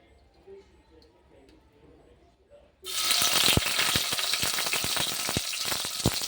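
Paneer is dropped into hot oil and fries with a sudden loud, dense sizzle full of crackles and pops that continues steadily, after a quiet stretch with faint sounds.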